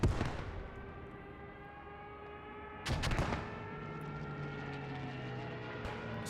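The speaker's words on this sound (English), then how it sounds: "Stuka coming in" A Stuka dive bomber attack in a World War II strategy game: a steady droning aircraft tone, fairly faint, broken by sharp explosive blasts at the start, near the middle and at the end.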